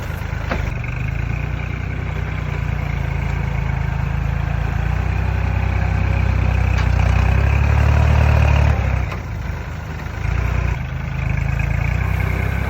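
A heavy dump truck's engine rumbles loudly and steadily nearby while unloading soil, swelling for a few seconds mid-way before settling back to a deep idle.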